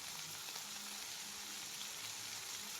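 Eggplant and okra sauté in a pan, giving a steady, dense, quiet sizzle with faint stirring bumps underneath and no voice.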